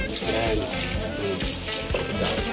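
Water trickling and pouring into a cooking pot during home cooking, a short close splashing stream heard with conversation going on alongside.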